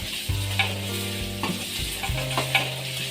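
Onions fry in a pan for tomato gojju, with a steady sizzle and repeated stirring clinks and scrapes close by.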